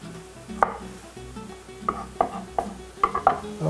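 A knife slices garlic on a board for ratatouille with sausage, giving scattered close taps that fall irregularly and come faster near the end, over a low steady background, with no talk.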